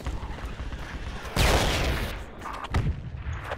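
Mortar fire in the Project Reality combat game, with a loud booming impact about a second and a half in followed by a rumbling tail and a second, smaller blast a moment later over faint battlefield noise.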